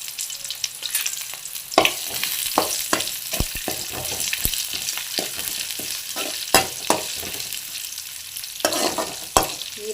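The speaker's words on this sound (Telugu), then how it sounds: "ఇప్పుడు బ్రౌన్ కలర్గా వేగింది కదా ఆనియన్" Onion fries in oil with mustard seeds, dried red chilli and curry leaves, a constant crackling sizzle broken by sharp scrapes and clinks of stirring.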